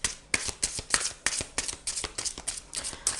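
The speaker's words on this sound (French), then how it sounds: "on va tout de suite tirer une carte de la sagesse de l'oracle pour les Verseaux" A deck of oracle cards is shuffled by hand before one is drawn, giving close, steady riffling flutters in quick bursts, about eight or nine in three seconds, with no talking.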